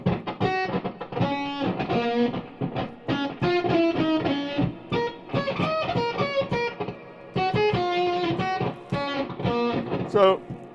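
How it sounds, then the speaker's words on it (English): Choppy, chiptune-like electronic notes bounce in quick rhythmic bursts, bright and buzzy, with a reverberant tail smearing between phrases. "it's kind of a sort of Nintendo type sound with reverb on it."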